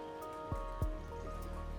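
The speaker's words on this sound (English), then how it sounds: "it started raining again, so we're good there" Steady rain falls in the video game Endzone - A World Apart, a constant soft patter under a faint music-like hum, with two low thuds early on and no talking.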